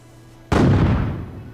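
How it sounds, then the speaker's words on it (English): A cannon in the low-poly sandbox game Ylands fires a cannonball: after a quiet hum, one sudden loud boom hits and rolls off into a decaying rumble, with no talk. "we've got a cannonball into the cannon, and it should be firing any time soon"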